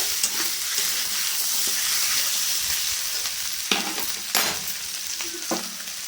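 Goat mutton for a red curry, browned for six minutes in a pan, sizzling steadily up close while a spatula stirs and scrapes, with a few sharper clinks of metal against the pan.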